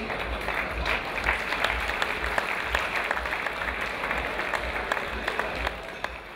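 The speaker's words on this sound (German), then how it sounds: "Applaus, den sich auch der Marktmeister verdient hat" Applause from an audience at the Diepholz Großmarkt, a market event, with steady, moderately loud clapping filling the space and a thin crowd murmur underneath.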